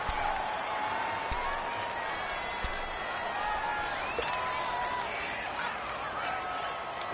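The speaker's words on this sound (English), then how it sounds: "the crowd getting into it as we come up on a big third down" Football stadium crowd noise ahead of a big third down late in the fourth quarter, a continuous distant roar with rising whistles and shouts swelling over a steady wash of spectators.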